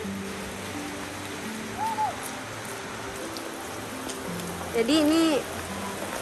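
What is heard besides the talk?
rain falling outdoors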